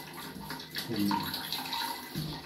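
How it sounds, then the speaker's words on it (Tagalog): Water runs steadily from a shower for a bath, a continuous soft splashing flow filling the room at moderate level, with brief indistinct voices in the background. "Gusto niya maligo. Shower."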